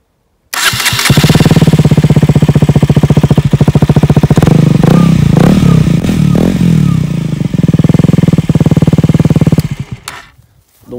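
KTM Duke 125 motorcycle engine running a decatted Akrapovic exhaust, loud and close, starting abruptly then holding a rough, pulsing idle with a few revs before cutting off near the end.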